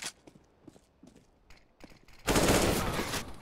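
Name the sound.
Mac-10 gunfire in video game Counter-Strike: Global Offensive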